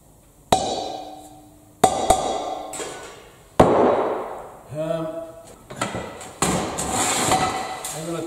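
Several sharp hammer blows strike metal during a log burner build, loud isolated impacts with ringing decay spaced a second or so apart, with a voice speaking between them.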